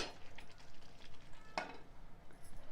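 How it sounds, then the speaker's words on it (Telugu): Egg kurma with oil risen to the top gets a final stir in a pan on the stove, soft scraping and faint sizzling with a couple of sharper clinks, quiet and close. "ఒక్కసారి చక్కగా కలుపుకొని మనం స్టవ్ ఆఫ్ చేసుకోవాలి."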